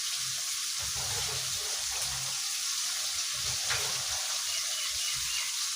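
Pre-cut eggplant going into a pan of fish curry with potato and oil, giving a steady loud sizzle and hiss with faint stirring bursts, no talking.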